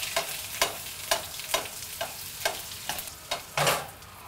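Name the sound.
Arctic char pan-frying in butter with squash, sizzling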